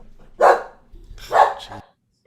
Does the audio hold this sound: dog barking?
yes